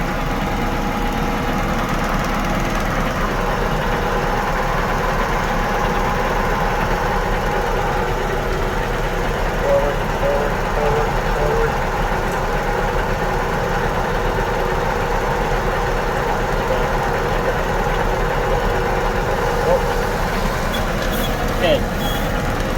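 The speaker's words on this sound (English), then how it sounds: "So I'm steering the tractor." A tractor engine idles steadily for the whole stretch, a low, constant rumble with faint mechanical vibration and no change in pitch.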